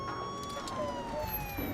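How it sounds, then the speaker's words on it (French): An ambulance siren wails in a steady falling tone, mixed under street noise and a dramatic soundtrack, moderately loud and continuous. "Une ambulance remplie d'agents de l'unité SWAT s'approcha de la camionnette du gang"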